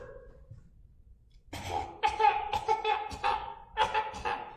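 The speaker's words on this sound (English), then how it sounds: "Make sure you're coughing. All the soot." A run of harsh, bursty coughs from a voice, several in quick succession after a quiet start, close and fairly loud.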